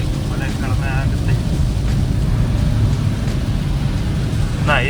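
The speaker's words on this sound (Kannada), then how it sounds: "ಎಷ್ಟು ಜೋರು ಮಳೆ ಬರ್ತಾ ಇದೆ ಅಂತ" Heavy rain drums steadily on a car being driven in Andhra Pradesh, a dense continuous wash with low road and engine rumble beneath and a few brief squeaky swipes, likely wipers.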